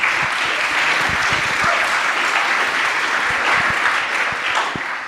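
Sustained, dense applause from a seated audience welcoming speakers to a privacy panel discussion, steady and close with no talk over it.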